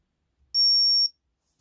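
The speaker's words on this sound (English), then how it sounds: "we shouldn't hear anything until the final beep itself" A Jeti RC transmitter running a Lua timer app gives its final timer beep, a single clean high-pitched tone lasting about half a second, clear against silence.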